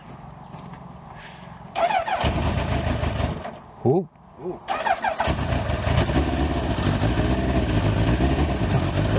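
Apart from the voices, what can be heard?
Kawasaki Ninja GPZ900R motorcycle engine starting and idling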